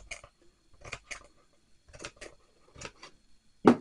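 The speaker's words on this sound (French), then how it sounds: "Alors, voilà, je vais couper" Scissors snip paper for a homemade advent calendar decoration in several crisp, close cuts, some in quick pairs, separated by short silences, with one louder snip at the end.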